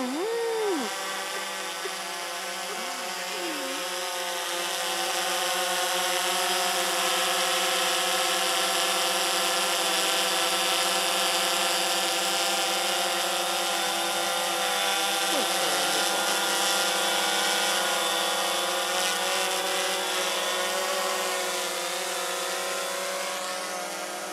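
A DJI Phantom four-rotor quadcopter drone hums steadily and loudly with a high, layered whine, its pitch wavering briefly at the start and around the middle.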